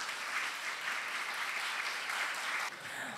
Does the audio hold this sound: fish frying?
no